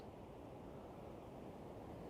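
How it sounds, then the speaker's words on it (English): Steady broadband rush of Perver Falls, a waterfall in a burnt-over British Columbia landscape, heard from a distance as a continuous, even roar with no voices. "there's quite a waterfall that must go in there"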